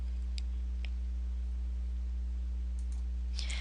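A few sharp, isolated computer mouse clicks, close and crisp, spaced apart over a steady electrical hum.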